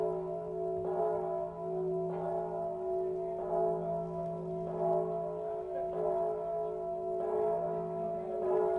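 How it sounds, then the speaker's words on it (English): A church bell tolls repeatedly in a steady slow rhythm, with strikes about every second and a sustained humming resonance between them, moderately quiet and with no one speaking. "that bell's getting annoying"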